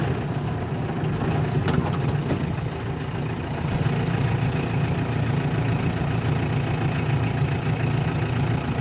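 A tractor engine idles steadily throughout, a low rumbling mechanical drone with a faint rattle, fairly close and unchanging, with no talking.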